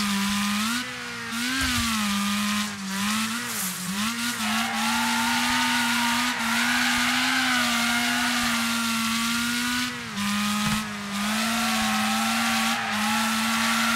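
Race car engine in a racing video game, a steady loud droning whine that holds pitch with brief dips and rises as the car shifts and corners, running continuously without talk.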